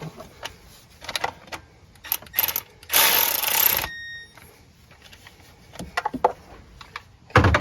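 A ratchet tightens the alternator mounting bolts on a Honda Pilot, giving short bursts of close mechanical clicking. Partway through comes a louder, continuous whirring stretch of about a second.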